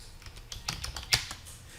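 Keys on a computer keyboard clatter in short, light bursts as switch configuration commands are typed, a handful of close, quiet keystrokes with no voice over them.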